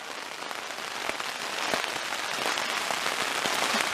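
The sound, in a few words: rain and hail hitting a tent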